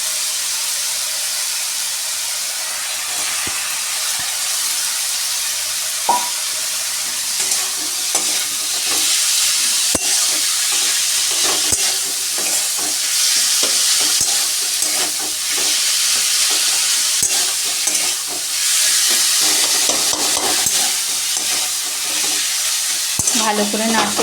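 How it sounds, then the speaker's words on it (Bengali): Capsicum fries and gets stirred into a vegetarian jackfruit and potato curry, with a loud, continuous sizzle running the whole time and frequent sharp scrapes and knocks of the spoon against the pan, close up and with no talking. "ভালো করে নাড়তে থাকবো"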